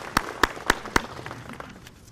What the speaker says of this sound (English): Join me in giving them some applause.